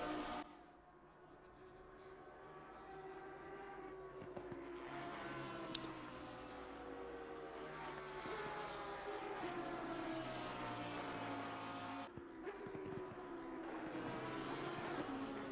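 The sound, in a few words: race cars at Silverstone in a sim racing video game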